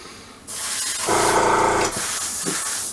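Tamiya XF20 paint sprays onto a model tank in a continuous close airbrush hiss that starts half a second in and carries on to the end, briefly swelling louder in the middle.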